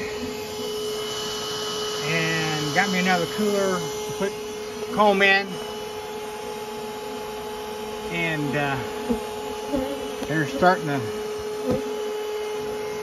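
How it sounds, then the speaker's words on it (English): A bee vacuum runs during a honeybee comb cutout, giving a steady droning hum with a constant tonal whine beneath someone talking at intervals throughout. "I'm gonna vacuum the bees that are on the comb"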